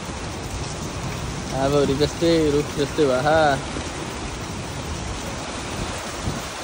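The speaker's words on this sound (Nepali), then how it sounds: "पानी पर्दै यार, बेहाल भयो" Rain pours steadily at a Chitwan water park, a constant dense hiss filling the whole clip while someone speaks briefly over it in the middle.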